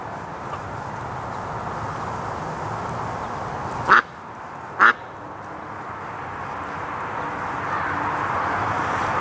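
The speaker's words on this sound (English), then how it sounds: "Poor little duck." A hospital duck being raised for charity quacks twice, about a second apart, each call short and clear over a faint steady outdoor background hum.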